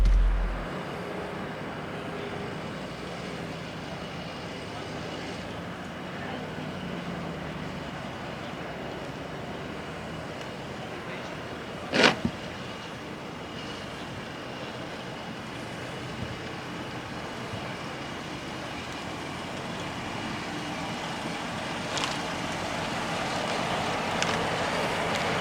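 A Jeep Grand Cherokee L creeps over a cobblestone off-road section, giving a steady low rumble of tires and suspension with faint wind noise and a couple of brief knocks.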